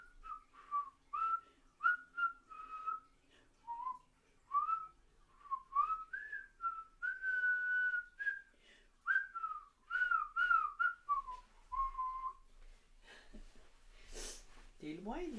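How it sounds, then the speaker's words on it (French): A person whistles a wandering melody of short tuneful phrases while tending houseplants indoors, close and fairly clear, with breathy sniffs between notes and a brief noisy rustle at the end. "Ah ben là, je siffle aujourd'hui."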